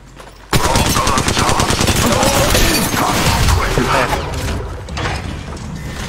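Rapid automatic gunfire from a VK-47 in Apex Legends Mobile, loud and dense, with continuous bursts of clattering shots running almost without pause after a sudden start.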